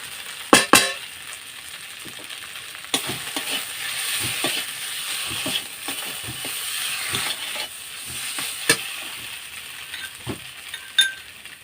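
Turmeric and chili powder sizzling in hot oil for a Bengali fish curry, a steady frying hiss with scattered clicks and scrapes of stirring throughout.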